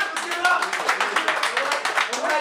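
An audience at an award show claps in a dense, continuous patter of many hands, fairly loud and steady, with voices mixed into the applause.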